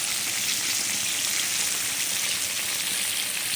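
Fry bread dough frying in hot oil, a steady, loud, dense crackling sizzle that holds even and unbroken throughout, close up with no voices.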